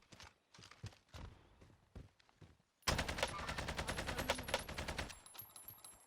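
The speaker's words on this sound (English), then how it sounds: "Just putting tons of bullets in him, but not enough to down him." Gunfire in Call of Duty: Warzone: sparse single shots and short bursts at first, then a sudden dense stretch of rapid automatic fire, loud and sustained before tapering off.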